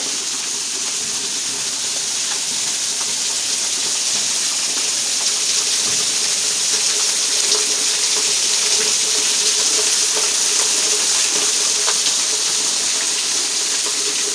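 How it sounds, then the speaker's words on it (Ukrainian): Water pours steadily with a constant rushing splash, like a small spillway running from one pond into another, loud and unbroken throughout. "як вода стікає цього ставка в інший"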